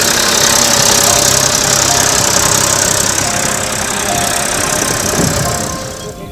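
A tractor engine runs steadily and loud nearby, a continuous rough mechanical rumble with knocking texture that eases slightly near the end.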